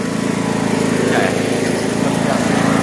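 Riding lawn mower engine droning steadily and loudly at close range while the machine drives through mud, a constant low hum with no breaks.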